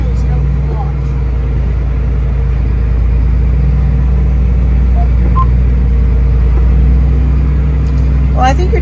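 A farm tractor on wide wheels drives over rough ground in the dark during fall, with a loud, steady engine rumble and drone filling the whole stretch, close to the cab.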